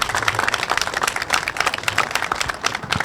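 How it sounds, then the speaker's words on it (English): Loud, dense applause from a crowd at a Canadian federal election campaign launch, continuous clapping from many hands for a minister, close and sustained throughout with no speech on top. "Please give the minister a round of applause."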